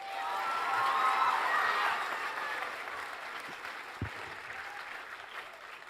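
An audience at an awards ceremony applauds, clapping swelling quickly and then gradually fading over several seconds, with a few scattered claps lingering at the end.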